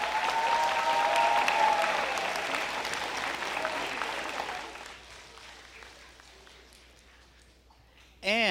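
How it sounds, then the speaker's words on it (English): An audience claps steadily in applause welcoming a police chief at a road safety campaign launch, loud at first and then thinning out and fading to a few scattered claps, with a voice over it at the end. "we'd like to give them a round of applause too"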